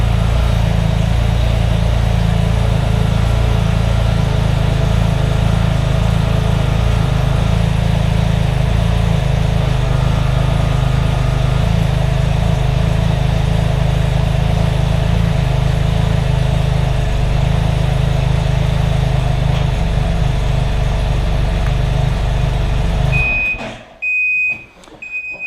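Can-Am Spyder RT Limited idling in first gear while its rear air-ride compressor runs, a steady loud engine drone with a constant hum layered on top for over twenty seconds before it cuts off abruptly near the end.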